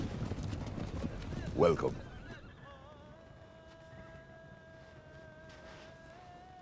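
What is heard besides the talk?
horses arriving, hooves clip-clopping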